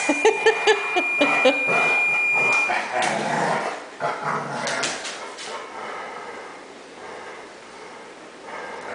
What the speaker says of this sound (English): Get that bad dog, Lucy.